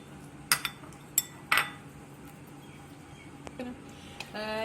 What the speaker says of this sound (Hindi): ये अब मैं इसमें अच्छी तरह मिक्स कर लूँगी।